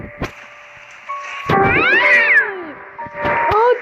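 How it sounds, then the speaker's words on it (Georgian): A black cat meows loudly and close by, a drawn-out rising and falling cry followed by a second shorter meow, with faint background hum between calls. "შავი კატა მოვიდა ახლა"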